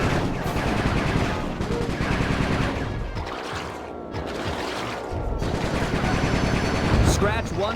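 Rapid bursts of gunfire from the Sly 3 video game, dense and continuous across the whole stretch, loud with brief lulls, likely mixed with game music and effects.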